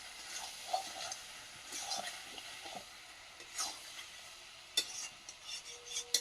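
Food sizzles in a pan in its own released oil while being stirred, with irregular scraping strokes and occasional sharp metallic clinks, close and moderately quiet.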